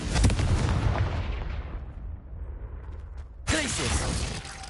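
A Confringo fire spell cast in the video game Hogwarts Legacy, a loud blasting explosion that booms at the start, fades into a rumbling tail, then bursts again near the end, with a faint voice over it.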